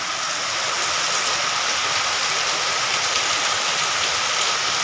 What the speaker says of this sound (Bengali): কত ঝড় বৃষ্টি হচ্ছে